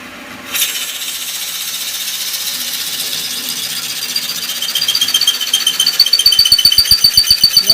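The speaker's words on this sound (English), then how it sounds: "one of the nice things about drilling it this way is that you can actually see your drill bit" A power drill bores steadily into a lantern, a continuous whirring grind close up that grows rougher and starts pulsing rhythmically toward the end.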